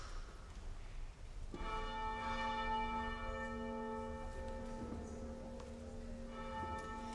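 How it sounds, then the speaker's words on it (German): A small church bell rings steadily at a Christmas Eve service with a bright, sustained metallic tone, the strokes overlapping into a continuous shimmer over faint background noise. "kleine Glocke, lass die Botschaft erklingen"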